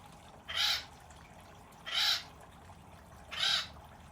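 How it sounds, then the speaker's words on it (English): Three harsh, raspy bird calls of a jay, compared with an acorn woodpecker, evenly spaced about one and a half seconds apart, moderately loud against a quiet Southern California garden background. "listen to how similar a jay's call is to an acorn woodpecker's"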